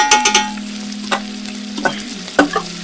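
Hyderabadi mutton yakhni pulao ingredients with coriander and mint being stirred and mixed in a pan: several sharp spoon scrapes and clanks over a steady sizzle, close and loud, no talk.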